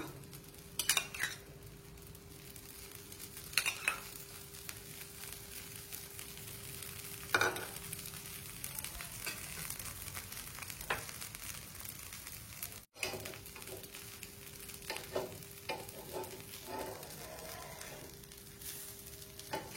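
Masala dosa frying in oil on a hot pan, heard as a faint, steady sizzle with occasional scraping and clinks of a spatula, close by and without talking.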